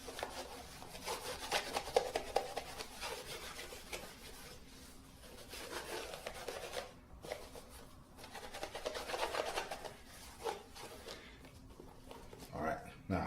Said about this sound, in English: Then I buff it a little, just to get the shoe ready for the waxing